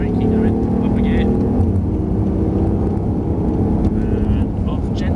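A BMW i8 on the Dunsfold track gives a steady, loud engine drone as it accelerates, and a voice talks over the engine throughout.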